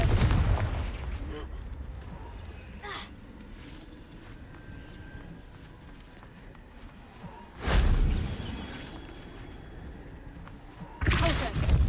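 Confringo blasting spells exploding in Hogwarts Legacy, with a loud burst at the start, a sharp crack near three seconds, then two heavy booms late on over a low rumbling game ambience.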